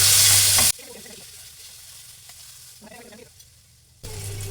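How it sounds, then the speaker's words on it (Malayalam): Brinjal mezhukkupuratti sizzles in a pan while being turned over, a loud burst of frying at the start and again at the end, with quieter scraping and stirring in between. "നമ്മുടെ വഴുതനങ്ങ മെഴുക്കുവരട്ടി നമുക്കൊന്ന് തിരിച്ചിട്ട് നോക്കാം"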